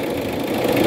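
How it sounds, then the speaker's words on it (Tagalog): A Mitsubishi Adventure engine runs weak and vibrates after a fuel filter change, a close, loud, even mechanical drone with a rough, buzzing pulse. "humihina ang makina, nagba-vibrate"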